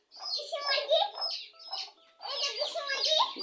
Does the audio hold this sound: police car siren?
no